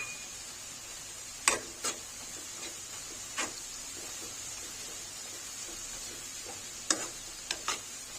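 Chillies frying in hot oil with browned onions for a tadka for beef paya, giving a faint steady sizzle broken by a few sharp clicks and taps of a spoon against the pan.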